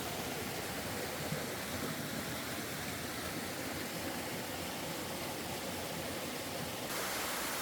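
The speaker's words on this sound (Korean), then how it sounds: "이곳이 밤골 계곡이 숨겨놓은 숨은 폭포입니다." A hidden waterfall in Bamgol Valley, Bukhansan, pours in a constant, dense rushing hiss, steady and close, with no voices.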